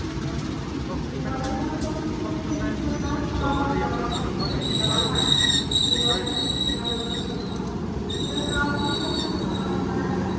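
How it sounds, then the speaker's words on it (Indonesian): A commuter train pulls into a station in Surabaya, Indonesia, with loud, steady wheel rumble and high metallic squeals building and fading across the passage, set against continuous station ambience. "Komuter lain Penataran dari Kertosono masuk"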